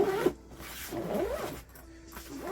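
Zipper on a diamond painting storage binder being pulled in several short, close rasping strokes, alone with no talk.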